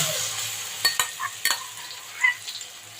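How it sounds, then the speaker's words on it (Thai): Thai curry paste stir-fries in a little oil over gentle heat, a faint low sizzle punctuated by several sharp spatula scrapes and taps against the pan. "เราจะผัดพริกแกงด้วยน้ำมันก่อนนะคะ"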